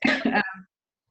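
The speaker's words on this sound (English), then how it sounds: "So I have this lingering cough, so I apologize." A single short cough, close and fairly quiet, made of two quick bursts followed by silence.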